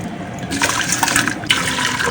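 Water poured into flour for onion vadaam, a steady close splashing gush that runs continuously for about two seconds, fairly loud and alone.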